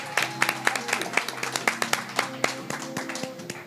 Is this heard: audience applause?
yes